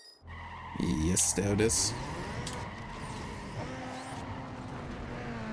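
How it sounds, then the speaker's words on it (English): Tires screech briefly under boost in the racing game NFS Underground 2, a short squeal over steady engine drone, with a voice speaking over the car noise. "When you hear the tire screeching, then basically it's the game saying, yeah, it worked"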